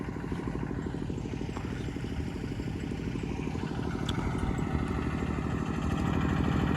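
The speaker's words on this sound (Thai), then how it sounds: "แถวนี้จะมีรถไถแบบนี้นะ" A farm tractor runs on a rural road in Loei, Thailand, its steady low engine throb and rattle growing slightly louder as it draws closer, heard outdoors with no talking.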